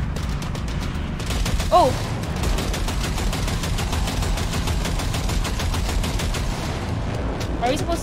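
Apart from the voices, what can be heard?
gunfire in video game Cyberpunk 2077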